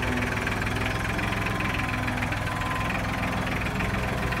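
A compact tractor engine idles in medium gear, giving a steady, loud low rumble with a constant knocking pulse and vibration, unchanging throughout and heard alone.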